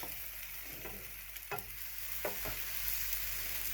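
An almond flour pancake cooking in a pan just after being flipped sends up a soft, steady sizzle, with a couple of sharp utensil knocks and a brief scrape, no one speaking.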